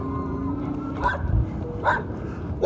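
Several dogs bark in short bursts at a passerby riding a RadRunner Plus e-bike, three or four separate barks spaced about a second apart over steady road and wind noise.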